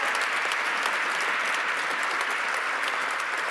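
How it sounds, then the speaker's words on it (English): A breakfast-event audience gives sustained applause, a steady, moderately distant wash of many hands clapping without a break. "please just give her a round of applause."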